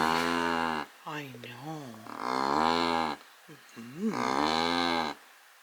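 A person imitates a cow with several drawn-out, moo-like calls in a row, separated by short pauses; the mooing voice is close and fairly loud.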